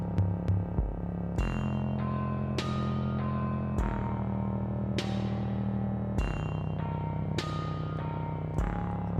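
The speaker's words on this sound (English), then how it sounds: "I feel obligated to send the kick drum through the reverb as well." Kick drum in a dungeon synth mix sent through reverb, a steady series of deep, booming hits with long reverberant tails over sustained synth pads, each thump recurring roughly every second or so.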